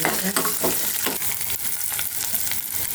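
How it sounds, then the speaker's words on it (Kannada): Garlic and green chili frying in hot oil for a Kannada amaranth-greens rasam, a loud, continuous close sizzle with faint stirring scrapes throughout and no talk. "ಈ ಸಮಯದಲ್ಲಿ ಬೆಳ್ಳುಳ್ಳಿ, ಮೆಣಸಿನ್ಕಾಯಿ ಎಣ್ಣೆಲಿ ಬಾಕ್ಸೋಣ."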